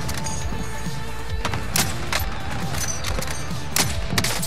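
Video game gunfire cracks out in scattered shots and short bursts over a rumbling background, a few louder reports standing out near the end.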